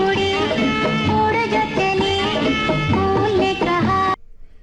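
Hindi film song from the film Suraj, full orchestral accompaniment with a clear melodic line running continuously and loudly before ending abruptly.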